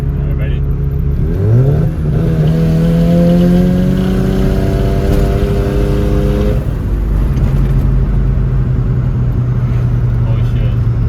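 A turbocharged Mazda FC RX-7 rotary engine revs up from low speed, its droning note climbing smoothly under boost and then holding a steady high pitch from inside the car before easing back down.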